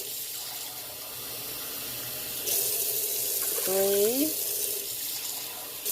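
Hot water runs from a kitchen tap into a pan, a steady hiss that grows louder and fuller partway through, while a voice counts under the flow.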